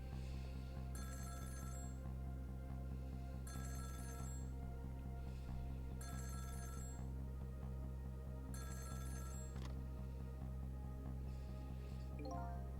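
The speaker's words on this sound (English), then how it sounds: "About 2 hours before dawn, the phone rang." Four evenly spaced bursts of a trilling electronic telephone ring in the video game Ghost Trick: Phantom Detective, quiet over a steady low drone, followed by a short click as the ringing stops.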